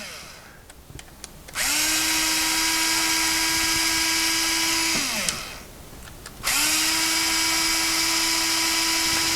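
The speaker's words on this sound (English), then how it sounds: "You can take these off with a hand screwdriver or battery powered screwdriver." A battery-powered screwdriver whirs in two sustained runs, backing out small Phillips screws from a waterproof dog-collar device, with a short pause and a click between runs; close and steady, with no talking.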